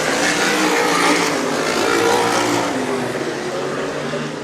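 Sprint cars race around the Stockton 99 Speedway, their engines a dense, continuous, loud roar of several machines at once, slowly fading slightly toward the end.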